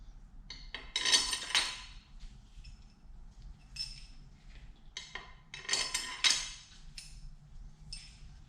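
Oiled metal washers slide and clink onto bolts during LTZ400 engine work, making light metallic taps and scrapes in short bursts, close and fairly quiet.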